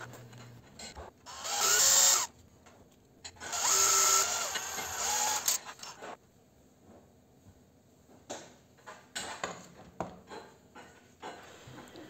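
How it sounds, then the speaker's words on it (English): Drill bit boring out a rivet on a convector heater during repair, two short bursts of whining drilling followed by quieter clicks and handling noises, recorded close up. "I have used a suitable size drill bit to drill to the rivet to remove it."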